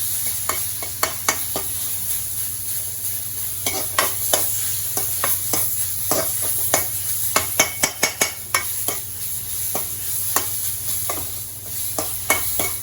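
Apple pulp and semolina stirred and roasted in a pan, with a spoon scraping and knocking against the metal over a steady sizzle and constant background hiss, close by with no talk.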